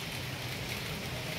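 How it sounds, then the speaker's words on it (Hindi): Light drizzle falls steadily on a cool morning with a breeze, giving an even, soft hiss of rain with no voices or other distinct sounds above it. "ठंडी ठंडी पवन बह रही है और रिमझिम बारिश हो रही है।"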